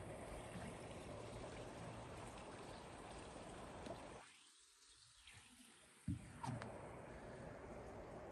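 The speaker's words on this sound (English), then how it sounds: "you can sit down here and just enjoy the quiet and the running of the water" Creek water running steadily outdoors on a rural property, a faint continuous rushing wash that briefly drops away near the middle before returning, with a couple of small knocks.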